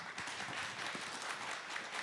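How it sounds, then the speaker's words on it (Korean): Audience applause at a Korean green-energy and V2X summit, steady dense clapping from a conference crowd filling the whole moment at moderate level, welcoming a speaker to the stage. "박수로 환영해 주십시오."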